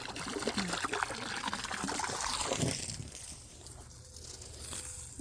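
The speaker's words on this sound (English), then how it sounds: "I gotta get my water over here. It's overflowing." Water from a garden watering hose overflows and trickles steadily while plants are being watered, a close continuous splashing dribble that softens toward the end.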